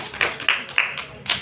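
A small classroom group claps during a microteaching session, a handful of sharp, separate claps in an uneven rhythm, close by and brief, with no talking over them.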